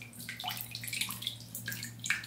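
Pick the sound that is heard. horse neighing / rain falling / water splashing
water splashing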